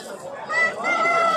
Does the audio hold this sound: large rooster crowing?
yes